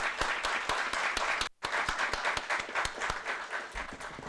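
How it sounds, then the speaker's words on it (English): An audience at an academic conference valedictory function gives a round of applause, sharp individual claps standing out over a crowd, with a momentary gap before the clapping resumes and carries on at moderate loudness. "Can we have a huge round of applause for the two conferences,"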